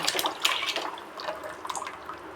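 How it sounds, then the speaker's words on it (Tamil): Dissolved masala is poured into a simmering onion fish curry, making a brief, soft splash and trickle of liquid up close that fades over a couple of seconds. "இப்போ நம்ம கரைச்சி வச்சுருக்கிற இந்த மசாலாலாம் இதில் ஊற்றிக்கலாம்."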